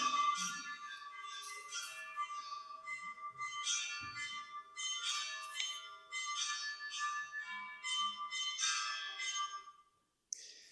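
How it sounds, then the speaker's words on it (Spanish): Several church bells, rung by hand and foot, ring in an irregular, overlapping peal, bright and resonant, with clanging strikes continuing steadily before cutting off near the end. "las cualidades del sonido emitido por las campanas podían ser diferentes. Veamos aquí, tocando con pies y manos."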